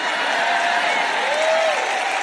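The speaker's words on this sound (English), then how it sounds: "Where were the claps on that," A church congregation applauding at a sermon, a dense, even patter of many hands clapping steadily throughout, moderately loud and without a break.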